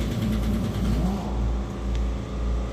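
A Cummins ISX diesel engine with its valve covers removed runs close by, a deep steady low rumble with slow rhythmic surges in loudness, heard alone without talk.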